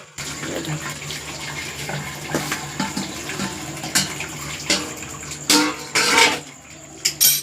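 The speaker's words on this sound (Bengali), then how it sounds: "এই দেখো সেদ্ধ হয়ে গেছে, ম্যাগিটা সেদ্ধ হয়ে গেছে। এবার এটাকে ঢেলে নেব।" Boiled Maggi noodles and their hot water poured out in a home kitchen: a running, splashing pour with intermittent louder gushes and light clatters of a pot, close by with no talking.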